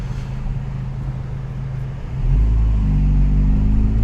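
A Honda Civic Type R with its resonators deleted idles with a steady low exhaust rumble, then the revs rise about halfway through into a louder, deeper drone that holds to the end.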